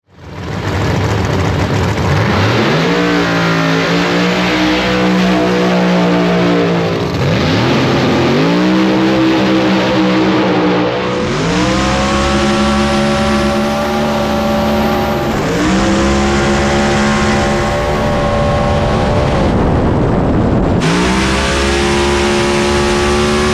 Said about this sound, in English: first big tire car down the track